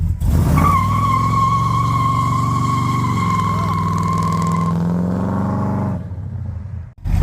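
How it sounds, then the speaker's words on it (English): 1968 Dodge Charger on a private road doing a burnout, a loud sustained engine roar with a steady high tire screech lasting several seconds before cutting off abruptly. "gonna start this video out with a big, gnarly burnout"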